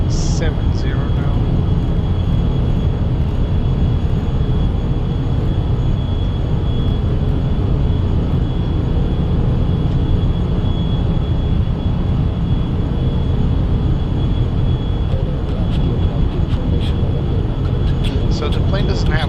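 An Embraer Phenom 300E business jet climbing in a flight simulator game on a Madrid to London flight: a loud, unbroken engine drone and rushing air that hold steady throughout.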